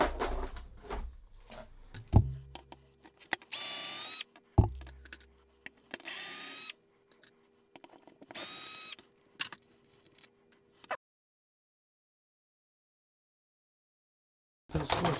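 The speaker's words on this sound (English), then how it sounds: "Alright, let's go put the drill on it and speed things up." A power drill backs screws out of a Losi MTXL RC car in three short, loud, whining bursts, with small clicks and handling noises between them, then silence.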